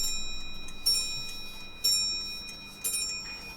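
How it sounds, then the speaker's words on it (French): An antique Louis XIV period clock ticks steadily and softly up close, with a louder, brighter metallic strike roughly once a second over a faint background. "C'est une horloge qui a une histoire, bien sûr."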